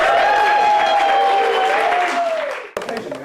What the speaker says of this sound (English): A round of applause for Barbara